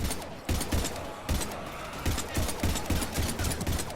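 Rapid gunfire bursts rattle in the Mass Effect 3 combat, with loud repeated shots and short pauses between volleys and dense crackling firefights close by.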